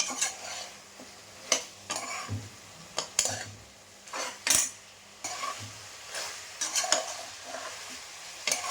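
A spoon stirs and scrapes chicken curry masala with coriander powder in a pan, giving repeated irregular scraping strokes over a faint sizzle. The sound is close and fairly quiet, with no talking.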